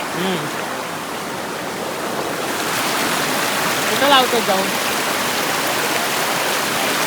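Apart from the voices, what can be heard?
fast-flowing river water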